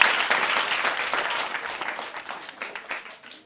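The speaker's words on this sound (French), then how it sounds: "Applaudissez pour elle." Applause from a children's class fills the room for a young girl who answered a question, steady dense clapping that slowly thins and fades toward the end.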